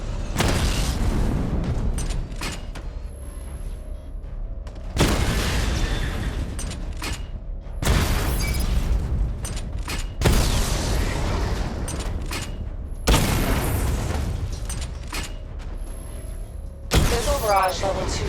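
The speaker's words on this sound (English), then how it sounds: "Charge the missile barrage to level 2 to destroy up to 4 targets at once" Batmobile missile barrage in Batman: Arkham Knight, with several loud bursts of launches and explosions spaced a few seconds apart, mechanical whirs and engine rumble between them, and a voice talking.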